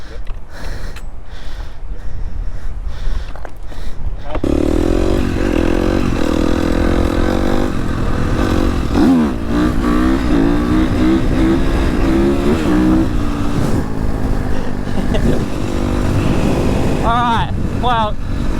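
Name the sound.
dirt bike engine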